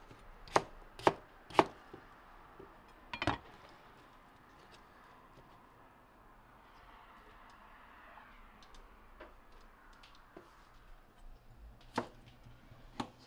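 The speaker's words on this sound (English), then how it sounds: "And then cut it into bite-sized pieces." A knife chops beef into bite-sized pieces for beef curry, with a quick run of four sharp knocks on a board, another a moment later and a lone chop near the end, in a quiet kitchen.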